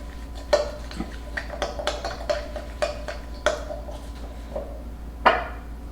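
A spoon clinks and taps against a bowl while stirring a seasoning paste for rotisserie chicken, sharp isolated ticks at an irregular pace, close and fairly quiet over a low steady hum.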